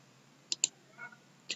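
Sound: computer mouse right-clicking

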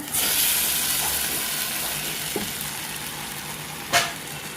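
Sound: ground green curry paste added to fried onion, sizzling

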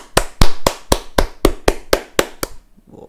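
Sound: applause, hand clapping

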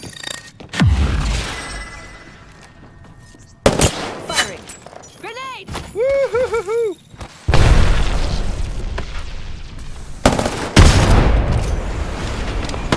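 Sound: gunfire in the video game Apex Legends

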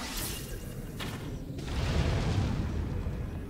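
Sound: fire attack explosion from a Zelda video game

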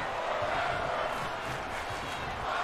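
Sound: crowd cheering in the video game WWE 2K22

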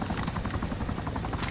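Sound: helicopter overhead in video game DayZ Epoch

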